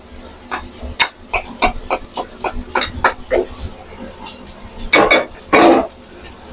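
Capsicum of three colours stirred into black fried rice in a pan, with a run of sharp metallic utensil scrapes and clinks against the pan, then two louder, longer scraping strokes near the end.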